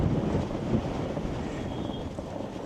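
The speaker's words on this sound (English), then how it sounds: "Yeah, there's the wind." Wind buffeting the microphone while cycling in Arctic Norway near Lakselv, a steady low rumbling roar that holds at an even level throughout with no voices.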